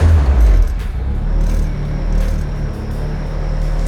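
A custom motorcycle engine fires up with a loud, deep low-pitched burst, then settles into a steady, close idle rumble with no talking.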